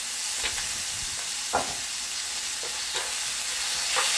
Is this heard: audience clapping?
no